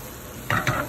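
A spoon stirs food in a hot, sizzling pan, with two quick scraping strokes over a steady soft frying hiss, heard close and alone.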